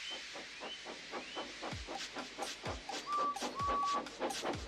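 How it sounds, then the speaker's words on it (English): A steam engine from a Thomas and Friends-style children's story puffs steadily, with rhythmic chuffs of hissing steam repeating about twice a second, near and moderately loud, with short whistle-like tones over the top. "So they lit his fire, made lots of steam, and Edward puffed away."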